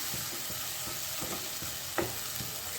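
Onion paste and tomato puree masala sizzling and frying in hot oil, with a steady soft hiss and occasional stirring scrapes and small pops, heard alone at close range.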